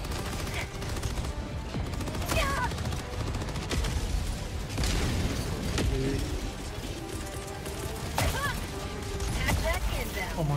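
Explosions and gunfire in Helldivers 2, a steady barrage of sharp blasts and bursts of shots, close and loud, scattered through the whole stretch with a few brief voices mixed in.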